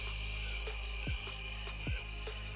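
A Fanttik Nano power drill runs against a thick ceramic tile with a steady, buzzing whine close by, broken by two low thuds and faint ticking.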